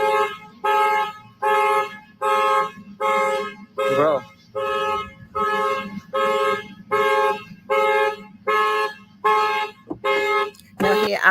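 A car alarm blares in loud, regular pulses of a wailing siren tone, repeating steadily and close by, with a short spoken word near the end.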